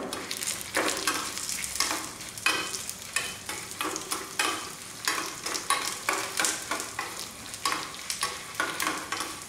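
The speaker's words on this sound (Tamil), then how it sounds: "நல்லா வெடித்து வர சத்தம் கேட்டுச்சுன்னா வறுபட்டுருச்சுன்னு அர்த்தம்" Spices crackle and pop while roasting in a dry pan, with repeated scraping strokes of a spatula in an uneven rhythm; close and fairly loud, no voices.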